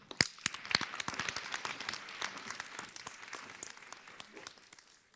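Audience applause at a Walnut Ridge High School graduation ceremony for a speaker, many hands clapping in a steady, moderately loud patter that thins and fades toward the end.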